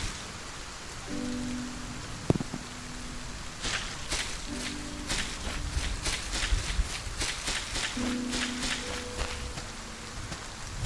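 Rain patters steadily in an indie video game, a dense even hiss of drops with scattered sharper taps and soft tonal game sounds recurring beneath, no talking.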